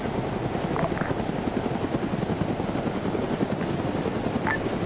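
A military helicopter in a video game, its rotor chopping in a dense, fast, steady thump, loud and close throughout with no voices.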